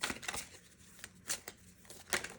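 Tarot cards are shuffled in soft, papery bursts that repeat at an uneven pace, close and fairly quiet, with no voice over them.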